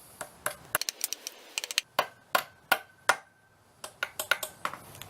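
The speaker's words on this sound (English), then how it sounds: "you might have to tap it a little bit with a hammer to get it started" Sharp metallic hammer taps ring out in uneven clusters as a roll pin is driven into a Mazda Miata manual shifter turret, some light and quick, others harder and spaced apart, close by with no talking.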